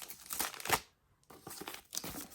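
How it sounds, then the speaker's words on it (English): Crinkling wrapping paper is torn open from around a book in quick, close bursts, with a short pause midway before more crumpling and ripping. "So I'm going to unwrap it now and see what I'm going to be reading"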